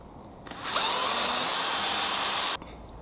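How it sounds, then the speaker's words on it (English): A power drill bores a 4mm hole into a block of wood, a loud close high whine that starts abruptly, holds steady for about two seconds and then stops, with no talking. "Just going to drill a couple of 4mm holes in it."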